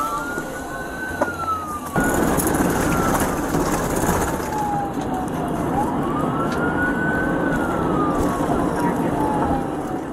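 A police siren wails and sweeps up and down in pitch over heavy traffic and road noise during a high-speed pursuit, recorded from a dashcam, loud and continuous after a quieter opening.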